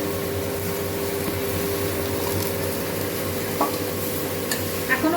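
Fried potatoes lifted out of hot oil in a home kitchen, a steady close sizzle with soft stirring and a few light clinks over a constant low hum.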